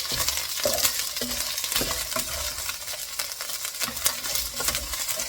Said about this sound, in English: And you want to just stir fry this maybe between 30 to 40 seconds.